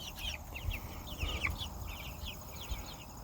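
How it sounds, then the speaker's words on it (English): A rooster and hens cluck and call in short, repeated bursts at moderate distance, set against steady outdoor background noise. "You're definitely a rooster."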